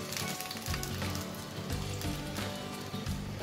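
Oil sizzles steadily in a frying pan as a yogurt and tandoori masala mixture cooks, a dense, continuous crackle at fairly low level with no talking.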